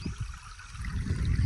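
Water rushes freely along a small rural channel once stones blocking it are cleared, giving a soft, continuous trickling and gurgling flow with no voices.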